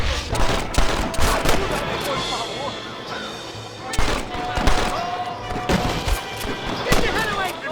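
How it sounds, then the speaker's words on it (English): Rapid gunfire volleys from a Wild West shootout in Red Dead Redemption, with attackers firing down from a clifftop, sharp shots cracking in irregular bursts with heavier blasts around the middle and near the end. "Watch the top of that cliff! They're shooting down on us!"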